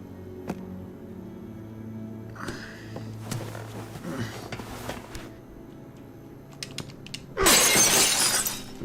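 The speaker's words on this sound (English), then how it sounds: "Then I heard the glass breaking." Window glass shatters loudly in The Walking Dead game, a sudden burst of breaking glass near the end after quieter shuffling and faint low ambient tones.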